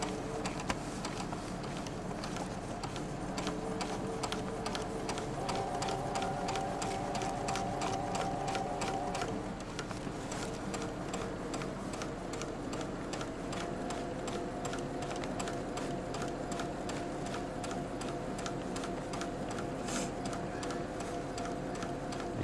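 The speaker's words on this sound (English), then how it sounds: "And you're just sewing freehand, right? Just straight stitch sewing, just to get the pieces together." A sewing machine running a freehand straight stitch to join fabric pieces, a continuous rapid mechanical ticking and whirring with a steady rhythm that shifts pitch slightly partway through, alone without speech.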